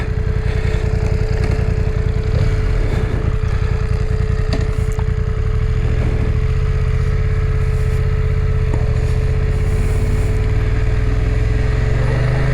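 A motorcycle engine putters steadily at close range on a muddy road, a continuous low throbbing with slight rises in revs, alone with no talk.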